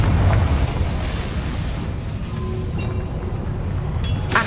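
A fiery Confringo spell explosion in the Hogwarts Legacy video game gives a loud rumbling blast that sustains, with faint chiming effects near the end and no speech.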